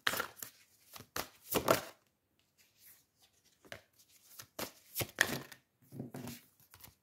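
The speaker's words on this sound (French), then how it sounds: "J'ai du mal aujourd'hui à mélanger les cartes, je sais pas pourquoi." Tarot cards being shuffled by hand, in irregular bursts of soft riffling and slapping with short pauses between, fairly close and quiet.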